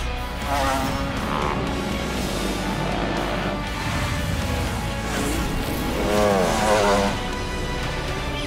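Racing motorcycles ride a practice mini race, with a continuous roar of engines revving and passing, swelling louder near the end as machines go by.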